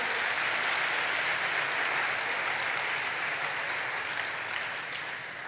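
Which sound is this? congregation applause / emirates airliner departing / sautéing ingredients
congregation applause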